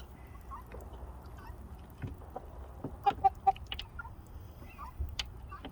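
Chickens clucking near a chicken coop during a chicken cutting class, scattered short clucks and calls at moderate distance over a low background rumble, with no talk.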